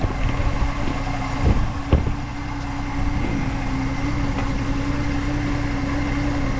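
A 1967 Chevrolet Nova V8 fitted with a carb cheater idles steadily around 600 rpm, a low even rumble close by, with a couple of brief clanks early on and no talk.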